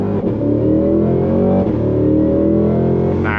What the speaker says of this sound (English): The sound of that V8.